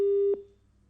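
A telephone busy tone sounds after a call is cut off: one clear, steady beep that stops abruptly and leaves a faint fading tail, alone with no voices.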